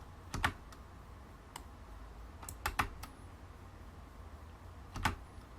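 Computer keys are pressed on a keyboard, giving a few close, crisp clicks in small clusters with quiet gaps between them.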